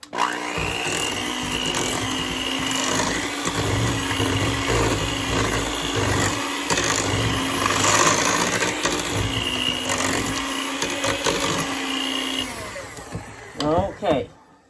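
An electric mixer beating root beer pound cake batter, a loud continuous motor whir that holds steady for about twelve seconds, then cuts off, followed by a few short clatters.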